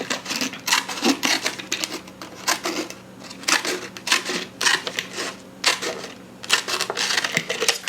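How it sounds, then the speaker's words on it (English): Rapid crunching snips and crackles of scissors cutting a plastic soda bottle repeat in irregular bursts, close and fairly loud, with brief pauses between cuts. "You can just take your scissors, poke it in to get it started."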